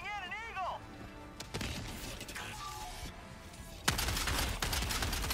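Gunfire in Helldivers 2, heard as a few sharp bursts of shots, most prominent a little past the middle, over busy game noise.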